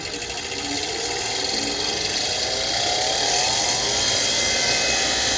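Bauer bench grinder fitted with a wire brush wheel runs steadily and loudly as it cleans a rusty Phillips screwdriver, a continuous whirring motor whine with a harsh brushing hiss that builds slightly and holds throughout.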